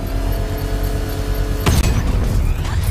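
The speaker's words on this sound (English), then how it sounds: "I can use the power winch to trigger a controlled explosion" A controlled explosion set off with a power winch in the video game Batman Arkham Knight bursts as a sudden deep boom over a steady, loud rumbling background, and the rumble carries on afterward.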